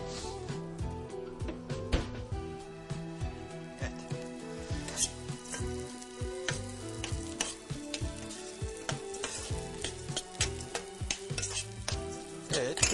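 Ingredients for a Caucasian-Cretan moussaka, with chestnuts just tipped in, sizzle and brown in a pan as a utensil stirs them in quick, repeated scrapes and taps, a busy close-up clatter that keeps going without speech.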